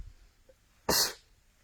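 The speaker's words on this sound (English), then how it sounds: "Sorry, I'm going to sneeze." A single abrupt sneeze bursts out loud and close, a short forceful hiss after a faint intake of breath, with quiet surroundings before and after.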